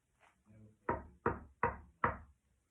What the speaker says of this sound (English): They knocked at the palace door.